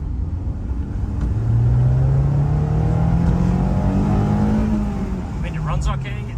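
A Honda S2000 engine in rough, poorly running shape revs up and pulls through a rising acceleration into VTEC, the drone climbing steadily in pitch and loudness before easing off near the end.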